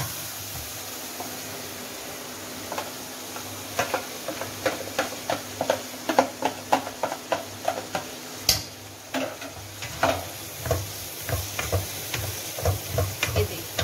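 Marinated kaleji (liver) frying in a tomato masala, with a steady close sizzle and repeated scraping stir strokes at an irregular rhythm, and no talking.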